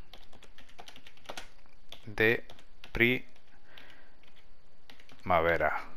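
Someone types on a computer keyboard in steady quick clicks at low level, while a voice speaks briefly over the tapping.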